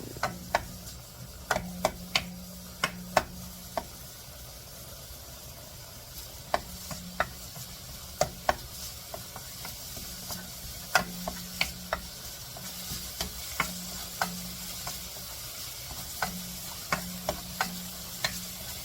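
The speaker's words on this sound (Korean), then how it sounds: "마늘하고 파향이 나게 좀 볶아주겠습니다" Garlic and green onion stir-fried in a hot pan, with a steady sizzle under repeated sharp clicks and scrapes of a utensil stirring against the pan, close and continuous with no talking.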